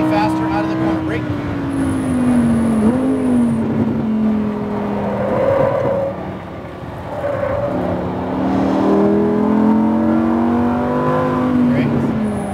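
A Lamborghini Huracan LP lapping the Speed Vegas track, its engine loud and close from inside the car, revving up and easing off in long rising and falling sweeps through the corners.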